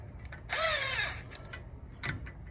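A power tool with a deep 12 socket drives hub nuts on a Toyota T100 manual hub swap, giving one short whirring burst, then a brief second spin amid faint clicks.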